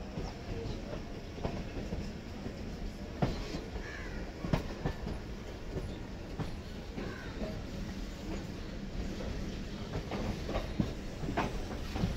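The Kanchanjunga Express with LHB coaches departs Sealdah station in a steady rumble with rhythmic wheel clacks, while crows caw nearby.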